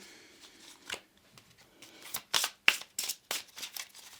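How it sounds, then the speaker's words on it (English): Tarot cards are shuffled by hand in a quiet room, a series of crisp riffling bursts and soft taps growing denser toward the end, close and fairly quiet. "So let's do a little bit of a shuffle."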